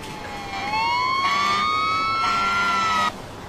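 A synthetic emergency vehicle siren from the video game Emergency 4 with a Los Angeles mod wails steadily, its pitch sliding slowly upward, loud and close with a hollow, game-like tone, then cutting off abruptly.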